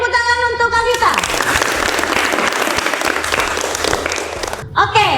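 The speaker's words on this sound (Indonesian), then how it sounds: "beri tepuk tangan untuk Kak Vita." Applause from a classroom audience during a teaching-practice session breaks out after a brief voice and fills the room loudly for several seconds, with many hands clapping together before it cuts off abruptly.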